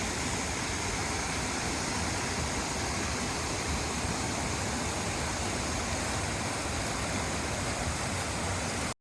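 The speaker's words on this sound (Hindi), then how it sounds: "पानी का शोर ज़्यादा आ रहा है" Rushing water at Umbrella Waterfall near Sialkot, a dense, loud, continuous roar close by with no breaks, steady throughout.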